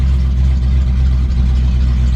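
Loud, steady low-pitched idle from a nitrous Foxbody Mustang drag car, the engine note holding even and close throughout with a slight uneven lope and no voices.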